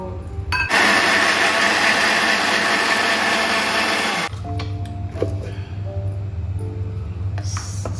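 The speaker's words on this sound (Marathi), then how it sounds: "सर्व पीठ आपल्याला मिक्सरला वाटायचं आहे का?" Mixer grinder grinding dhokla batter, a loud high whirring motor burst for about four seconds after a short start, then a lower hum with clattering and handling noises.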